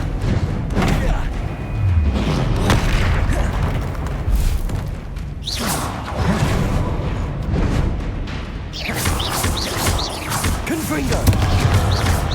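Spell blasts going off in a Harry Potter-style wizarding video game, a series of booming, crashing explosions spread across the clip under continuous loud game noise and voices.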